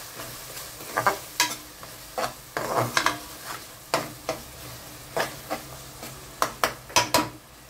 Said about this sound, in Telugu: సో ఈ వెల్లుల్లిపాయలు వేసుకొని తిప్పుకొని ఒకసారి బాగా కలుపుకొని